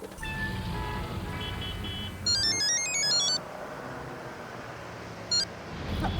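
A phone ringtone plays in a comedy film scene, with a melodic electronic ring sounding in a short burst, then a brief repeated chirp, over a steady background hum.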